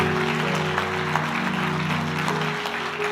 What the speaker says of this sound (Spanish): Alguien tiene que dar un aplauso al Señor por estas vidas.